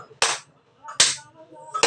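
Three sharp, loud hand claps ring out at roughly even intervals, each crisp and close with quiet gaps between.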